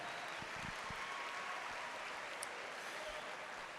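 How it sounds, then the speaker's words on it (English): An audience applauds youth fair exhibitors at an evening awards and steer show in Ocala: a steady, fairly faint patter of clapping hands that continues evenly throughout. "Let's give these exhibitors a round of applause on a job well done."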